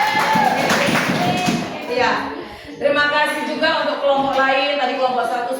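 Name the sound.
group clapping hands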